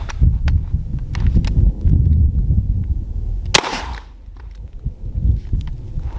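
A single sharp blast from a Mossberg 590A1 shotgun loaded with Winchester number 8 birdshot, fired outdoors at short range, cutting through steady background rumble and leaving a brief decaying tail.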